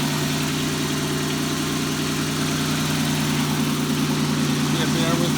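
A 1989 Oldsmobile Cutlass Cruiser engine idling close by with a slight exhaust leak, a steady even rumble with no changes in pitch or level.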